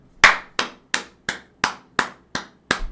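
One person claps eight times in a slow, even rhythm, each sharp, close clap ringing briefly before the next, with silence in between.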